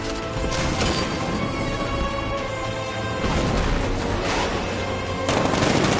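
Loud, continuous barrage of a tank's 60mm cannon fire and explosive booms in a Batman video game, dense and unbroken, with crashing impacts layered throughout.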